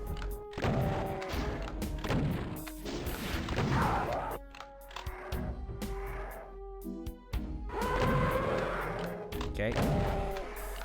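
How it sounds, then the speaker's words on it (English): Super shotgun blasts hitting Hell Knights in Doom's The Plutonia Experiment, map 20, heavy booming shots and thuds repeating through the stretch, mixed with game noise and a voice talking over it. "use our super shotgun to take care of"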